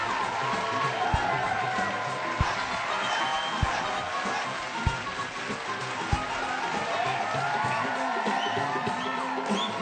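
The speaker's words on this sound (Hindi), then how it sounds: "तालियां इन लोगों के लिए एक बार जोरदार" Crowd noise from an audience celebrating an Indian national team victory, a dense continuous roar of cheering and applause with scattered whoops and occasional thumps, steady and fairly loud throughout.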